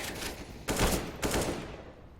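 A grenade thrown during a professional Counter-Strike match: two sharp bursts arrive about half a second apart over a steady game-noise bed, loud and close, then fade out.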